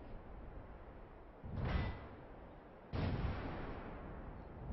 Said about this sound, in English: So we're gonna take a nice, easy shot right there, right into his side.